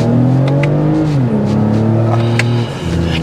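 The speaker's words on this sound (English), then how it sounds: "301 horsepower, naturally aspirated V6. It might be the last time you hear that for a TRD" A 2024 Toyota Camry TRD's naturally aspirated 301-horsepower V6 with cat-back exhaust idles with a steady low harmonic drone that bends in pitch as the revs rise and settle, loud and close.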